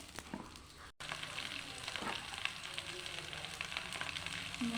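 Whole dried red chillies, bay leaves and panch phoron frying in hot oil for a vegetable and soybean curry, a steady close sizzle and crackle with a brief dropout near the start and no talk.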